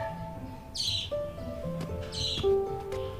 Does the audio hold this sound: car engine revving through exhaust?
no